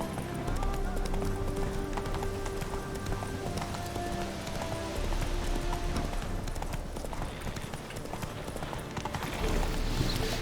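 Hooves of Geralt's horse gallop at a steady rhythm in The Witcher 3, a continuous clip-clop close by over game music and ambience, with a voice talking at moments.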